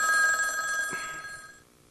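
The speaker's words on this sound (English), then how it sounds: "I was having lunch on my houseboat when the telephone rang." A telephone rings once in a single bright electronic trill that fades out within two seconds, heard alone without speech.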